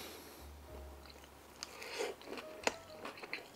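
Eating tater tots poutine, soft close biting and chewing with a few crunchy bites in a quiet room, no talking.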